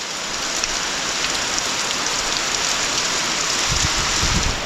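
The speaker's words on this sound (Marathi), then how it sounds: "जोरदारच आला एकदम मग अशी पाऊस तुम्हाला मी दाखवत होतो कसा येतो" Heavy rain pours steadily and loudly, a dense continuous hiss of drops hitting surfaces close by, with no pauses.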